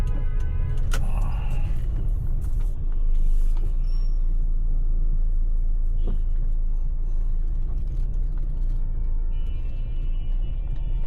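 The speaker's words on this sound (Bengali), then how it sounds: "জ্যাম আর পথ ছাড়ে না, এরকম জ্যাম," A road traffic jam with cars and buses, heard from inside a car as a constant low engine rumble with occasional air-brake hisses and passing vehicle noise.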